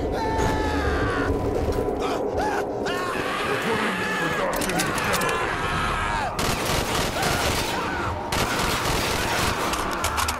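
Dense, continuous video game gunfire aimed at a zombie, bursts of rapid shots layered over a loud, busy mix of game effects and distorted zombie noises, with no pause.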